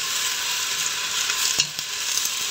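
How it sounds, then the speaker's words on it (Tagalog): Beef sautés in a hot pan with a steady, dense sizzle and a few soft stirring scrapes, close and continuous, with no voices. "gisa-gisahin na natin yung ating karni ng baka"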